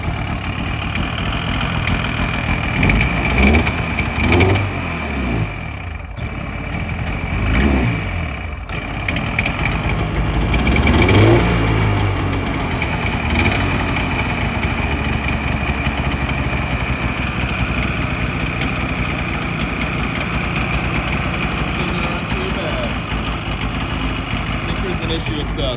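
An old snowmobile that sat unused for about six years, with the choke off, runs with a rough, loud engine drone that rises and falls in uneven revs across the whole stretch, steady idling between throttle bursts.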